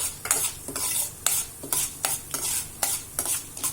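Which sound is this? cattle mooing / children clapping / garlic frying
garlic frying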